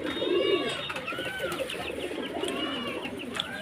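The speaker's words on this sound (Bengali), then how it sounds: "আর এক পেয়ার পায়রা দেখুন" Pigeons cooing close by at a pigeon market, repeated throaty rolling coos overlapping one another at moderate loudness, with faint voices in the background.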